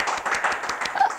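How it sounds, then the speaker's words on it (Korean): A small audience gives a brief burst of quick clapping lasting about a second, fairly close and alone without talk. "박수를 쳐주셔서 감사합니다"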